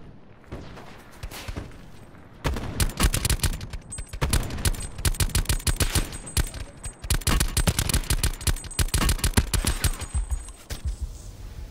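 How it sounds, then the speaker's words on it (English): Heavy automatic gunfire in Call of Duty Black Ops 4, a quiet opening followed by long dense bursts of rapid shots with brief gaps, loud and close, with distant shots mixed in. "Getting shot from somewhere around north"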